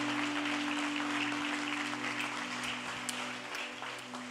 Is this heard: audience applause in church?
yes